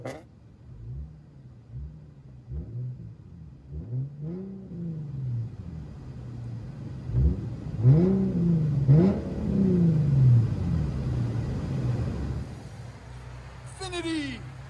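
A 2012 Infiniti G37 with a 3.7L V6 and straight-pipe dual exhaust revs several times, each rising and falling burst growing louder toward the middle, heard up close over a steady idle rumble.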